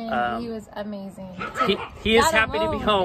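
A 9-month-old Labrador at home gives excited bow-wow barks, yips and whimpers, close and loud, mixed in with people talking.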